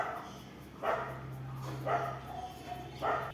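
A dog gives three separate short barks with whimpering tones, fairly faint and close, spaced about a second apart, against a quiet outdoor background.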